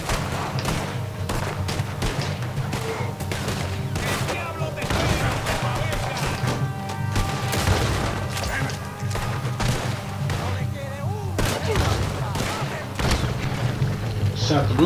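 Gunfire in the video game Red Dead Redemption 2: a dense, continuous stretch of shots and booms at steady loudness for about fifteen seconds, with people talking over it throughout.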